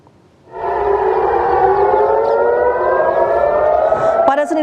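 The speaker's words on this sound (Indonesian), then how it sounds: "Sirine terdengar meraung saat Israel dan Iran saling melancarkan serangan untuk pertama kalinya sejak gencatan senjata" Air raid sirens wail over Jerusalem during an Israel-Iran missile exchange: a loud, sustained civil-defense tone rises in after a quiet start and holds steady, with a brief disturbance near the end.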